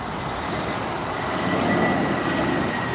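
Airplane taking off at Los Angeles International Airport, a broad steady roar from a distance that swells slightly toward the middle and then holds.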